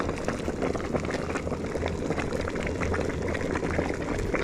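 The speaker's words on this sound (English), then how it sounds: "Wonder how long it'll boil for." Liquid bubbling at a steady boil during copper refining, a dense continuous simmering and gurgling close by, no talking.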